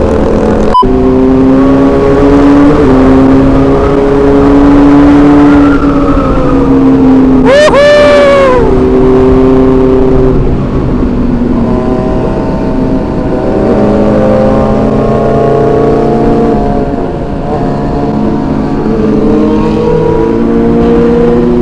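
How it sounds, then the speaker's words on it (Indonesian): A loud motorcycle exhaust drones and revs steadily, with a sharp rising whine partway through, while voices talk over the roar. "knalpotnya bacot banget sih Meki Mek."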